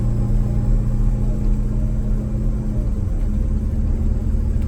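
A bus engine under hard acceleration gives a loud, steady low rumble and drone heard from inside the vehicle, with a slight shift in pitch partway through and no talking.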